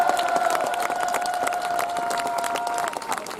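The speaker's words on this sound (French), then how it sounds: "je crois qu'on peut applaudir très chaleureusement les cheminots" An outdoor crowd at a pension-reform protest warmly applauds striking railway workers, a dense, continuous wave of clapping and some cheering with a sustained tonal note running beneath, and hardly any speech.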